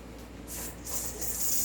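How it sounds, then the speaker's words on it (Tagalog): Green gas is sprayed into the valve of an airsoft Glock 17 magazine, a close, hissing gas spray that starts about midway and continues in short surges. "press the valve, then spray. Green gas."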